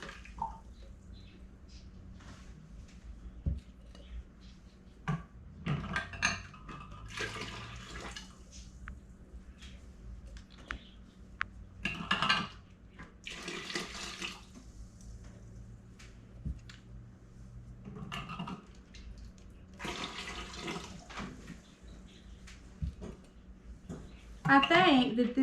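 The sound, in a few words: pouring water out of canning jars from pressure canner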